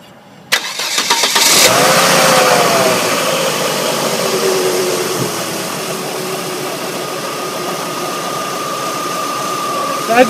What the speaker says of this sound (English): I'm going to go ahead and start my car.